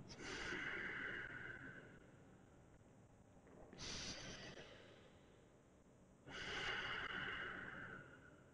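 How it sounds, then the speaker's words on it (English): Three long breaths during a yoga practice, each a slow, steady rush of air through the nose and mouth, spaced a few seconds apart, close and fairly soft, with no talking. "Same long inhales, long exhales."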